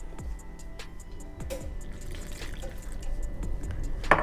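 Plain water poured into a bowl of flour with salt and oil for cheese paratha dough, close and fairly quiet: soft drips and a trickle with a few wet squishes, no talking.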